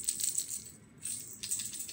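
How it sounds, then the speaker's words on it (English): Small rattle inserts meant for crocheted amigurumi baby toys give off a faint, soft shaking rattle in a couple of brief bursts, heard close and alone in a quiet room. "They're rattles, they're just little things that you put inside of an origurumi"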